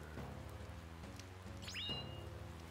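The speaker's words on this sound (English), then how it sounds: "Yeah, now it's raining" Rain falling in the video game Doom 2, a soft steady patter at low level, joined by a few brief game tones and a short chirping sweep.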